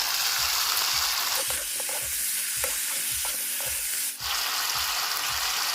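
Chopped tomato and slit green chillies sauté in oil for chicken curry, sizzling steadily as a spatula scrapes and stirs the pan in a regular rhythm, close and clear with no talking.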